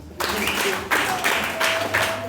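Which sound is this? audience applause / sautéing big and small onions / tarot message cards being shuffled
audience applause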